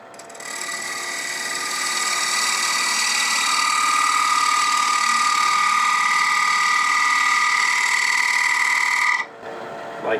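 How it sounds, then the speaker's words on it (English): A 3/8 inch bowl gouge cuts into the rim of a wood bowl spinning on a lathe, bringing a bead down to its base. The shearing cut keeps up a steady, loud whine for about nine seconds and then stops abruptly. "So I'm going to use again 3/8 inch bowl gouge and just come in and just bring it on down into the base of that bead."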